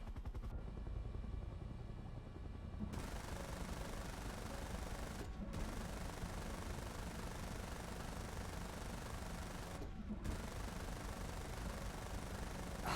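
Aircraft cannon fire during a SEAD event in War Thunder, aimed at incoming missiles: a dense, continuous rattle of automatic gunfire over a steady engine roar that runs the whole stretch, with only brief gaps.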